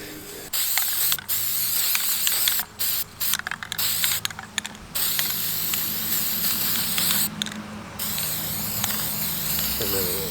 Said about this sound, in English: you could spray it in between